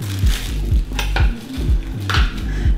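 Vanilla grass-fed protein powder being mixed in a container, with repeated scraping and clinking of a utensil against the side in a quick, uneven rhythm, close and loud, no talking.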